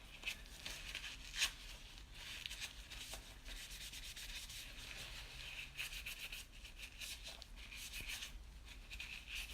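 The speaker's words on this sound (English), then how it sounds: "I like to every now and then shove an actual cleaning rod with a bristle in there." A bristle cleaning rod scrubs inside the barrel of a Wilson Combat X-Tac pistol, giving a faint, continuous scratchy rubbing in close, quiet strokes.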